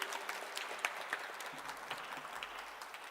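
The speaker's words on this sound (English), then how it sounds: "Can we give them one last round of applause" An audience at an intern graduation applauds, quick dense clapping with distinct individual claps near the front, steady for a few seconds and easing slightly toward the end.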